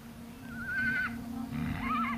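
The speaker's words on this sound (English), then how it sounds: "The big surprise is that it's a Przewalski horse." A Przewalski horse, the wild steppe horse, gives two whinnies in quick succession, the first a long wavering neigh and the second shorter, moderately close against a quiet outdoor background.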